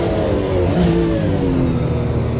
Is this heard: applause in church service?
no